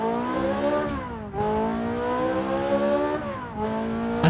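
A racing car engine in the Assetto Corsa video game roars steadily at high revs, its pitch dipping briefly twice as if shifting gears, loud and close with no talk.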